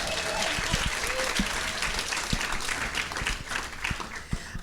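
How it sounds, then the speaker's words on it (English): An audience at a talk-show style event applauds steadily, a dense wash of clapping that holds loud and even for the whole stretch with no pauses. "let's give them another round of applause because that was amazing"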